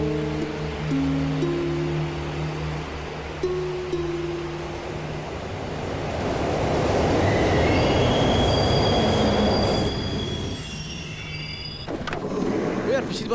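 Delhi Metro train running, with sustained tonal whine and hum that gives way to a rising rush and rumble of rolling carriages, then high squealing wheel tones near the end, loud and close.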